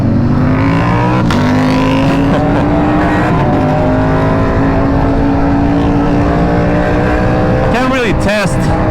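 An Aprilia RSV4 sport motorcycle running a Gabro MTorque map accelerates hard through canyon roads, its engine note climbing steadily under strong wind rush, with quick revving shifts near the end; a rider's voice is mixed in.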